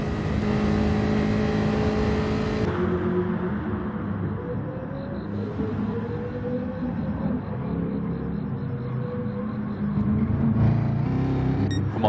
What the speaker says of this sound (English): R8 versus BMW, and the R8's winning out this time round.